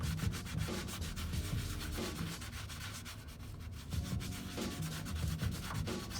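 A 3M Roloc bristle disc on a rotary tool scrubs carbon build-up off an engine piston, giving a steady close abrasive whirr and rasp that swells and eases with the pressure.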